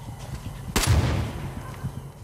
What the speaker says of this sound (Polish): Mieliśmy okazję przetestować sobie strzelbę właśnie przed chwilą